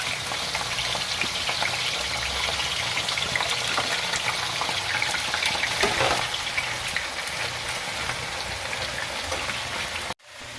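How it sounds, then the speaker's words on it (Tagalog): Potatoes fry in hot oil for a Filipino pork curry, giving a loud, continuous crackling sizzle like heavy rain that cuts off abruptly near the end. "Prituhin mo natin ang patatas para masarap."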